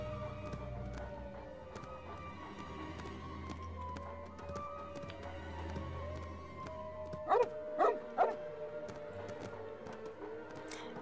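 A dog in the Lego Harry Potter video game gives three quick barks in a row, moderately loud over the game's steady background music and ambience.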